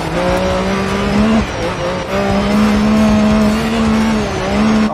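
A rallycross car in a racing video game accelerates hard, its engine note climbing steadily with brief dips at gear changes, loud and close throughout with no talking.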